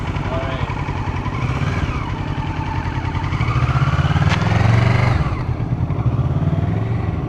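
A Kawasaki Ninja 650 twin-cylinder motorcycle pulls away at low revs on clutch alone, a loud steady engine rumble swelling gently as it moves off, with wind noise and voices speaking over it.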